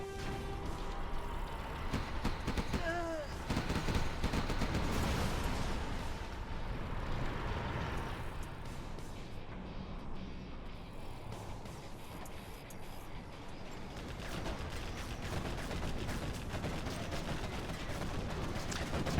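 Chain gun gatling fire in a Generals Zero Hour match, a faint, rattling stream of rapid shots mixed with distant battle noise and rumbling vehicles, continuous and low in level throughout.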